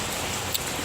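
Steady rain falls outdoors, a dense, even hiss of drops filling the whole moment with one tiny louder tap.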